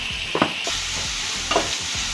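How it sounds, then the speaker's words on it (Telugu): Onions fry with a little salt in a pan, a close, continuous sizzle broken by several scraping stirs, with no talking. "కొంచెం సాల్ట్ వేసుకుంటున్నానండి ఆనియన్స్ వేగడానికి."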